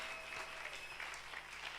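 A church congregation applauds, a steady, fairly distant wash of clapping from many hands lasting the whole moment, with no voices standing out.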